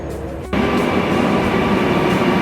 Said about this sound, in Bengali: মেট্রো ট্রেন আসছে